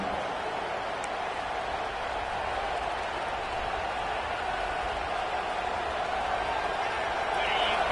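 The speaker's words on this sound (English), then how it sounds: "the crowd really making some noise now, trying to help out this defense to get this stop near the goal line" A college football stadium crowd roars in a steady, dense wash of cheering as the defense tries to hold near the goal line, with a commentator talking over it.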